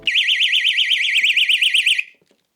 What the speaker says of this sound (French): Une petite alarme également.